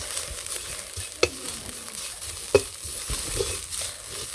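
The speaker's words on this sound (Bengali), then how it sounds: "সুন্দর ঝরঝরা করে মূলের শাকগুলো ভেজে নিলাম" Radish greens frying in a pan for a village-style dish, with a low crackling sizzle and a stirring spatula scraping throughout, plus two sharp clanks of utensil against the pan.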